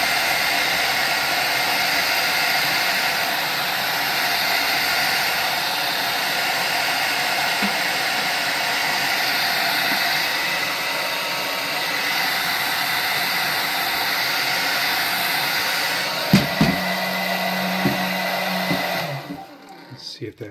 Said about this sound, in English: we're going to use the hair dryer to remove this film right here